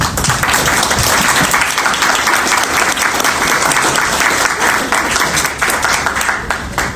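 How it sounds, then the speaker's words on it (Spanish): An audience at a women's event in Mexico's Chamber of Deputies applauds a speaker, producing steady, dense clapping that fills the whole stretch at even loudness. "aplauso a nuestra ponente Rocío Jiménez Nolasco"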